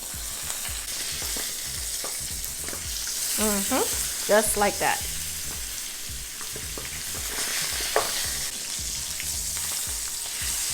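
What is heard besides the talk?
salmon sizzling skin side down in hot oil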